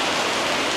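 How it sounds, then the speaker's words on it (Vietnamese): Heavy rain pours in the Chinese countryside as a loud, dense, steady hiss with no pauses, lasting under a second. "Trời mưa quá."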